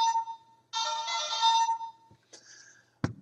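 Electronic ringing tones from a Gokaiger Mobirates toy phone's call function, two bursts of bright chiming melody separated by short pauses, ending with a sharp click, played close and loud with no talking.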